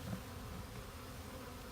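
A honey bee swarm being transferred from a swarm trap into a hive box hums with a steady, dense buzz that holds at an even level throughout, with no voices.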